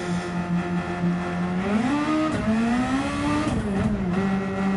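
Superformula open-wheel race car in Gran Turismo 7 pulling out of the pit lane at Interlagos, a loud, steady high-pitched engine drone that rises and falls through gear changes, close and alone without talk.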